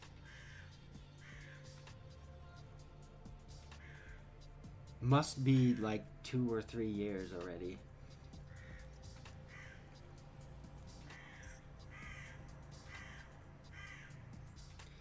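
A crow caws in a short burst of loud, harsh calls partway through, with a person talking quietly before and after it.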